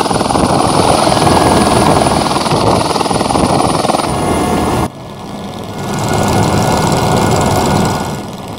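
A helicopter on a sightseeing flight over Victoria Falls in Zambia makes a loud, steady thrum of rotor and turbine close by, broken by one abrupt drop in level midway before the roar builds again.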